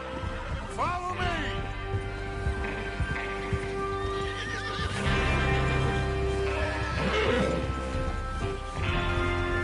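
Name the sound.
horses in video game Red Dead Redemption 2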